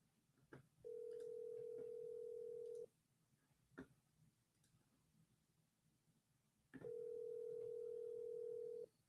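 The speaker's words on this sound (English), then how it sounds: "I'm dialing the first one." A phone line's steady ringback tone sounds twice in long, even bursts separated by a pause, with faint clicks between them during an outbound call.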